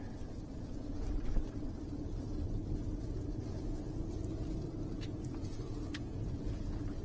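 Toyota RAV4 Prime on winter tires rolling over bad winter roads in severe weather, heard from inside the cabin as a steady low road rumble and tire noise with faint higher hiss, no talking.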